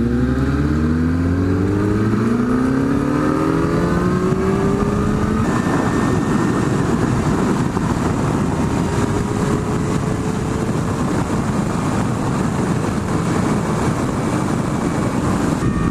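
A Kawasaki ZX-10R accelerates hard up a long highway on-ramp, its engine rising in pitch through several quick gear changes, then settling into a loud, sustained high-speed drone mixed with wind roar, close to the rider.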